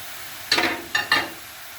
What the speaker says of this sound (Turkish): Güzelce soğanla birlikte 1-2 dakika kavuruyorum.